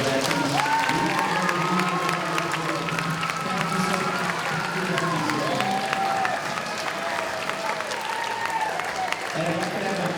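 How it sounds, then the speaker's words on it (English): A school Veterans Day assembly crowd gives a big, loud round of applause for veterans, dense continuous clapping mixed with cheers, whoops and children's shouts, steady for the full stretch. "can we have a big round of applause for all of our veterans?"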